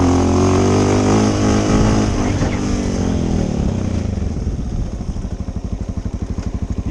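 A Honda 650L motorcycle engine roars loud and close through a second-gear wheelie, holding a high steady drone before the revs fall into a rapid, pulsing throb as the clutch slips slightly.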